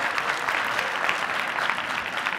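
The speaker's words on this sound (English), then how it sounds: "Big round of applause again for our panelists" A conference audience at IZEAFest 2015 gives its panelists a brief round of applause, a steady, fairly loud burst of many hands clapping together for a couple of seconds, with no voices standing out.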